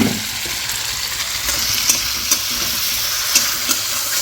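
Chilli chicken in soy, tomato sauce and a little sugar sizzling steadily in a pan, with occasional clinks and scrapes of stirring over the continuous fry, close and fairly loud, no talk.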